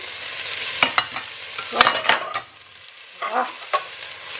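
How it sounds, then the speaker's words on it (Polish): Clarified butter and onion frying in a pan give a steady, close sizzle, broken by the scrape and clack of stirring, with no talking. "moje masełko klarowane smaży"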